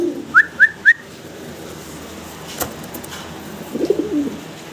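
Pigeons at a breeding farm: three quick whistled chirps close together, then a pause, then a short low coo, all nearby and fairly faint, with no one talking.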